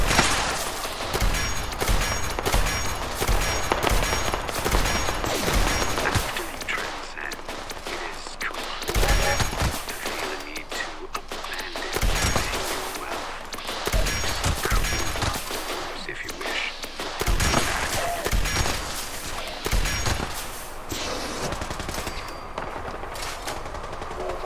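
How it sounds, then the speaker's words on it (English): Laser weapon gunfire in Fallout 76, a dense, sustained stream of rapid shots and impacts continuing loudly throughout with only brief dips, a chaotic firefight with no talk. "This guy over here shooting that laser is just shooting everything"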